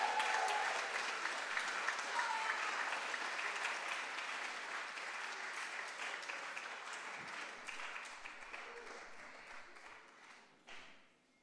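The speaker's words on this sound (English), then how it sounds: "I want you to give them an encouraging round of applause and a cheer." A church congregation at a baptism service breaks into sustained applause with scattered cheers, a dense wash of clapping that stays strong for about ten seconds, then fades quickly near the end.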